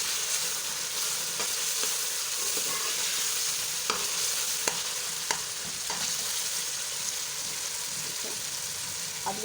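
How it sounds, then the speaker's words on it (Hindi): Potatoes and peas fry with masala in a pan for an aloo matar pulao, giving a steady soft sizzle with scattered light scraping clicks of stirring throughout. "अब ये मैंने आलू मटर जो लिए हैं वो भी साथ ही डाल देंगे ताकि मसाले के साथ ही ये भुन जाए"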